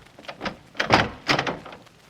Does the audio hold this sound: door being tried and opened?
yes